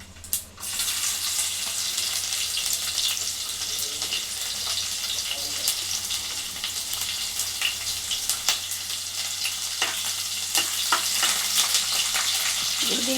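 Chopped onions dropped into hot oil in a pan, a bright continuous sizzle with crackling pops and occasional stirring scrapes, steady and close throughout.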